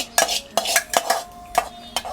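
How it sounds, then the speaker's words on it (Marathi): Metal utensils, pots and cutlery clink and clatter in a series of sharp, separate knocks about every half second, fairly close and with no talking. "सॉरी गाईज भांड्यांचा आवाज येतोय"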